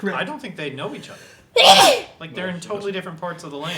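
One loud, sharp sneeze bursts out between stretches of conversation, close to the microphone, with people talking just before and after it.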